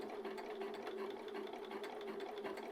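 A sewing machine topstitching a seam on a blazer, running steadily and fairly fast with a continuous rapid needle rhythm and motor hum throughout, no voices.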